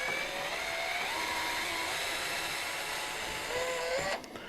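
A cordless drill on a light torque setting drives screws back into the plastic lower arm of a Traxxas X-Maxx RC truck, with a steady whirring motor and rising pitch near the end before it stops.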